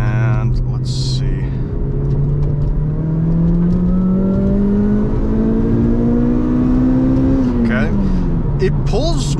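A supercharged Toyota Corolla XRS engine, running with a tune fault and warning light, pulls hard under load toward 8,000 RPM, its whining pitch climbing steadily for several seconds before dropping off as the throttle closes, loud from inside the car.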